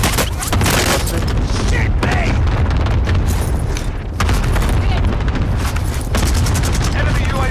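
Heavy gunfire and booming explosions in a Call of Duty Warzone battle royale quads match fill the clip loudly and continuously, with a player briefly speaking over the din.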